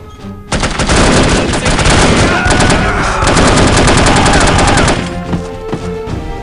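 Gunfire at point-blank range in the shooter video game N.O.L.F. bursts out as a loud, dense stream of rapid automatic shots for about four and a half seconds, then cuts off into quieter game ambience.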